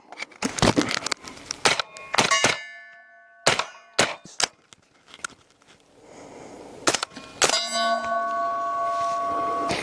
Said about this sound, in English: Let's go ahead and mount our suppressor back up.